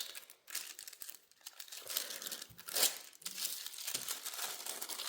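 Crinkly glassine paper bag rustles and crackles in near, continuous bursts as a folded vintage-style ladies' journal is slid and pressed into it, with one sharper crunch partway through.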